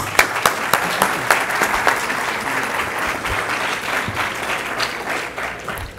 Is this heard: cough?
no